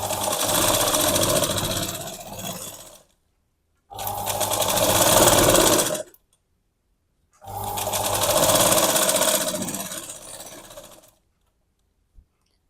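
A sewing machine stitching a yoke strip for a blouse, running in three loud, close bursts of rapid mechanical whirring of two to four seconds each, separated by silent pauses, with no speech.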